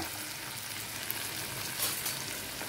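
Sliced onions, cumin seeds, green chillies and curry leaves fry in hot oil with a steady, close crackling sizzle and a few brief louder spits, with no talking.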